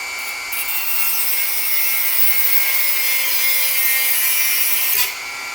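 A Dremel rotary tool cuts steadily through wood for about five seconds, a continuous high whine with abrasive rubbing, close and loud, then it stops abruptly.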